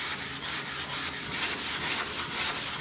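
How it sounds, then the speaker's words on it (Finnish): Filler putty mixed with resin is sanded smooth by hand, a steady close-up rhythmic rubbing and scraping that repeats in even strokes throughout. "sit mä hion sen tosta tasaiseksi"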